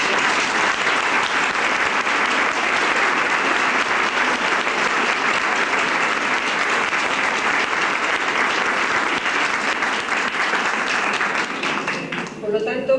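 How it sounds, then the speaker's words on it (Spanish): Sustained audience applause at a 1993 women's culture week lecture on women in the Third World, steady and dense for about twelve seconds before tapering off. "Un aplauso."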